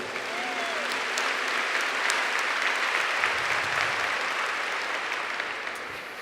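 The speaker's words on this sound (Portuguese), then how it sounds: "Give him a big clap." A church congregation applauds steadily and fairly loudly throughout, a broad sustained clap that builds, holds and slowly tapers near the end, with a faint voice briefly audible at the start.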